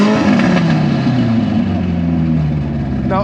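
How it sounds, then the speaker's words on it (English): A Mitsubishi Evo engine revs up loud and close, its steady drone sliding slowly downward as the revs fall away, with a brief higher whine at the end. "Give it a nice rev."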